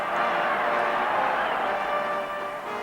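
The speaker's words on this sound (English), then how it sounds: "A sound of cheering." A vast crowd gathered at the gates cheers in a steady, dense roar that holds at an even level throughout and eases off slightly near the end.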